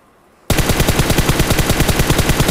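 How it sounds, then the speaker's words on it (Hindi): PUBG Mobile gunfire bursts in abruptly after a moment of quiet, a loud, rapid, evenly spaced automatic stream of shots sustained to the end. "जिनके ऊपर हल्का सा फायरिंग करने की कोशिश कर रहे हैं"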